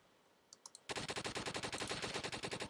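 Rapid automatic gunfire in a Roblox neighborhood war game, a few faint clicks followed by a loud sustained burst of evenly spaced shots, close and alone.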